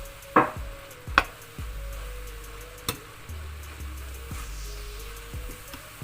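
Nasi goreng being stirred in a pan, with a few sharp scraping clinks of the spatula over a steady low sizzle, close by and alone.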